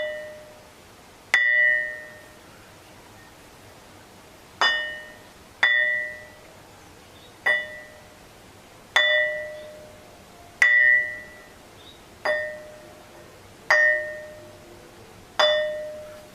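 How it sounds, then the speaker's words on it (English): A piece of dark, metamorphosed quartzite is struck again and again by hand, and each sharp strike gives a clear, bell-like metallic ring that fades out. About nine spaced hits ring loudly and close by, with no talk. "And that's how it rings."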